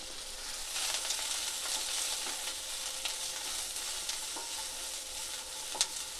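Onion frying in a little oil in a pan for a surmai fish curry, a steady bright sizzle throughout with faint scraping stirs and a small pop near the end, no talk.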